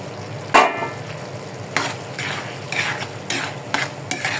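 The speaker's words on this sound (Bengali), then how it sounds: "আমি একটা ডিম ভেজে নেব, পাস্তার ভিতর দিয়ে দেবো" Egg frying in a pan for pasta, a steady sizzle with a sharp scrape at the start and repeated spatula scrapes and stirs, close and clear without speech.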